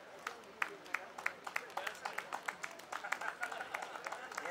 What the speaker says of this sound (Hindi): हमारे एमडी सर के लिए और नीरज के लिए खूब सारी तालियां।